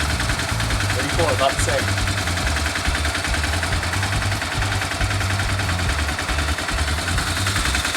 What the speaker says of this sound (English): Put that back on and just start the bike and see what it sounds like.